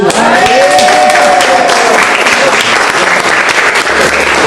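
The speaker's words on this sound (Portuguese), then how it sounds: "A gente podia começar uma salva de palmas para a nossa primeira associada de Aracaju." An audience at a talk on spirituality and spiritual care breaks into loud, full applause for a newly welcomed member, with cheering voices rising over the steady clapping.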